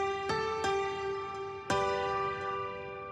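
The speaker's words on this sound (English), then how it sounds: "Very nice, bright piano." A bright piano voice plays from music software, with a few struck chords whose notes ring and decay softly, fairly quiet and alone.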